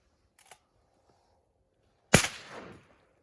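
A single loud shotgun blast during a duck hunt, sharp and close, with a rolling echo trailing off over about a second, preceded by a faint earlier thump.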